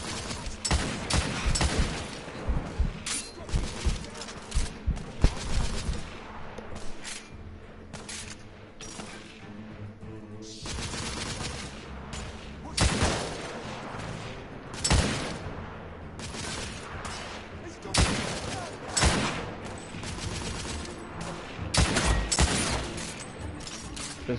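Repeated bursts of gunfire in a Victorian-era third-person shooter firefight, loud sharp shots clustered in volleys with short gaps, booming impacts and mechanical clatter between, no talk.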